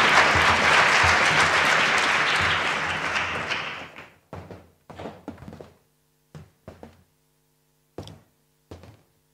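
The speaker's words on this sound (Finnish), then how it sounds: "Annetaan heille vielä aplodit ja Mikolle samalla tervetuloa" Audience applause for a seminar's panelists, a dense burst of clapping for about four seconds that fades out, then a few scattered knocks and thumps in a quiet room.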